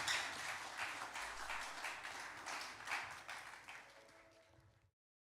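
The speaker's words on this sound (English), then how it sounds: "How about give another clap for the YA here tonight?" A congregation at a Christmas church service claps for a youth group, steady, fairly close applause that gradually thins and fades to silence near the end.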